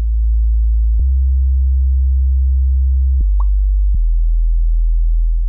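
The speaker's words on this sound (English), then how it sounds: "when you don't have EQs in your subs and you're using just a sine wave, listen to how it sounds like" Pure sine-wave sub bass with no EQ, a deep steady low tone stepping between a few notes with faint clicks at each change, loud and alone.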